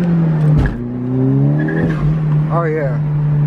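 Honda Civic Si with a loose intake clamp accelerating hard in first gear, the engine note rising steadily under the cabin drone, with people talking over it inside the car.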